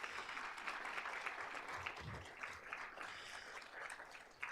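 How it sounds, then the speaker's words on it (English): Steady crowd applause at a university awards ceremony, a dense wash of clapping from many hands that continues throughout, fairly distant and even in level. "Let's give them a round of applause."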